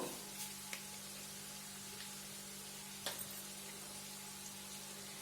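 Rice being stirred together with instant fried rice mix and vegetables in a hot pan gives a steady soft sizzle with a few brief scraping clicks, close and fairly quiet, with no one talking.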